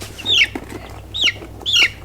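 A hen held in someone's hand gives three sharp, squawking clucks at a steady pace, with brief flutters of wing flapping between them, all close and loud and with no talking.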